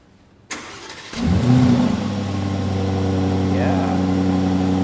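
An Aston Martin DB12 engine cranks after a sharp click, catches with a loud rising roar, then settles into a steady rumbling idle close by, with someone speaking over it.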